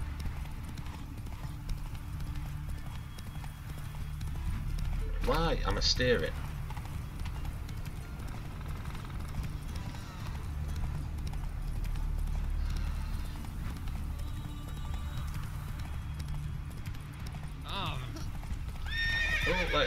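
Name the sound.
wild horses galloping and neighing in video game The Witcher 3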